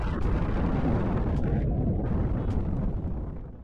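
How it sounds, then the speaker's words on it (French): A nuclear bomb blast on the scale of the Tsar Bomba, heard as a deep, continuous roaring rumble that fills the low end and holds steady for several seconds before slowly fading. "Les explosions nucléaires de ce type peuvent parfois être entendues à plus de 483 km au loin"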